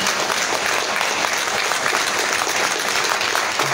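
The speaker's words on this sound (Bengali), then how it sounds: "আমি আপনাদের প্রত্যেকের কাছ থেকে একটা জোরে হাততালি চেয়ে নিচ্ছি" Loud, dense applause from a seated audience at a company program in Raniganj, a steady wash of many hands clapping with no talk over it.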